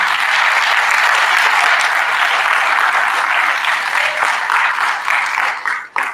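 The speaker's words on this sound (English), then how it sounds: "Students, how about a round of applause for our families?" Students at a 5th grade awards assembly applaud their families, a loud, dense wash of clapping from a large group that fades out near the end.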